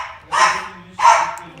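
Two short, loud dog barks spaced about half a second apart, close by, with a faint background hum and no talking.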